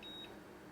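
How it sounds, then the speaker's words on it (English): A Keithley 2110 digital multimeter gives a short, thin, high-pitched auto-hold beep, faint and brief, over a low background hum. "And once it beeps, it holds there for you."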